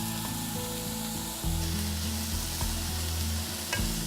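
Blanched corn, beans and finely chopped carrot fry in a hot pan, giving a steady, close sizzle that continues for several seconds, with some stirring noise over it.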